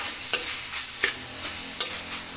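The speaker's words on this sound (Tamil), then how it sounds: "ஓகே, இப்போ நல்லா மிக்ஸ் பண்ணி விட்டுக்கலாம்." A mushroom gravy is stirred in a hot pan. It sizzles steadily, and three sharp scrapes of the spoon against the pan come at regular intervals, close by with no talking.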